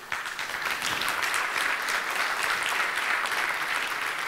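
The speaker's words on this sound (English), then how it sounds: "Thank you, but that wasn't an applause line." An audience at a startup conference talk breaks into applause, beginning abruptly and continuing as a dense, even wash of many hands clapping at steady loudness.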